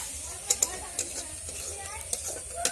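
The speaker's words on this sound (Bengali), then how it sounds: "তেলে দিয়ে দেব আমি পেঁয়াজ কুচি। পেঁয়াজটা একটু ভেজে নেব।" Chopped onion fries quietly in hot oil in a wok, giving a soft, steady sizzle broken by a few sharp clicks and scrapes of stirring.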